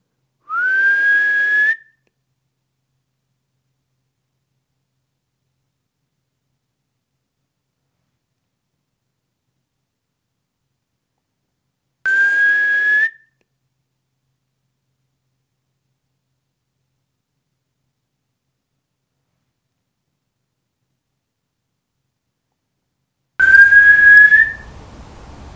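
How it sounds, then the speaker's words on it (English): A person gives three separate single whistles, each a short rising-then-level tone, spaced about ten seconds apart with silence between, clear and fairly close during a nighttime paranormal investigation. "if you want to follow the whistle, you're welcome to come towards me. So, follow this noise."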